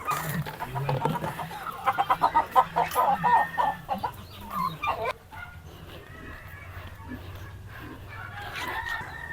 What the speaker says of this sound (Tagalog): magbahog tayo ng mga pabo at mga manok